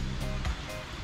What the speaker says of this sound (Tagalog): Maririnig nyo ang lakas ng agos.